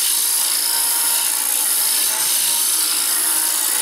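Plywood bracelet spinning on a wood lathe while a tool cuts it, giving a continuous loud rasping, scraping hiss close to the microphone with a brief dip partway through.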